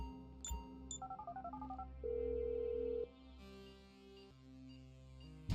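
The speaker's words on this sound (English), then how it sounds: "I'm making the call." A phone call being placed in Grand Theft Auto V: a rapid run of keypad beeps, then a steady tone and a softer ringing signal over a low in-game background hum, with no one speaking.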